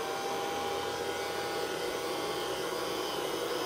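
Hair dryer blowing acrylic paint across a canvas during a Dutch pour with bubbles, a steady broadband roar held close and loud throughout with no voices.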